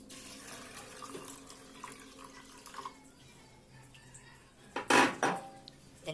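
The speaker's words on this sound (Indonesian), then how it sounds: "Selanjutnya kita tambahkan air ke dalam pancinya." Water runs from a tap into a cooking pot, a brief splashing gush near the end after quiet kitchen clatter and faint background noise.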